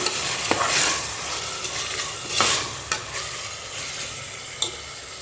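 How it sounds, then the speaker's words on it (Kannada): Garlic paste sizzling in a hot pan for kushka rice, a steady close hiss of frying with a handful of sharp spatula scrapes and taps scattered through it. "ಪೇಸ್ಟ್ ಹಾಕಿದ ಕೂಡಲೇ ಸ್ವಲ್ಪ ಫ್ರೈ ಮಾಡಬೇಕು ಈ ಥರ."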